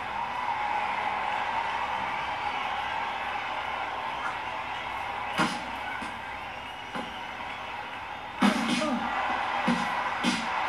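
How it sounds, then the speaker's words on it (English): Crowd noise at a volleyball match in Kinect Sports: a steady murmuring roar from the stands, with a few brief louder bursts and thumps partway through, under commentary. "The crowd loving the tension. Just listen to them."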